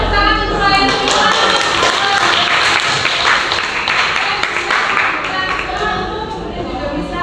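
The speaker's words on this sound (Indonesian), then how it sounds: "tepuk tangan untuk kalian semua" Participants at a school academic-supervision coaching session give a round of applause, a steady dense clatter of clapping filling the room and holding fairly evenly throughout.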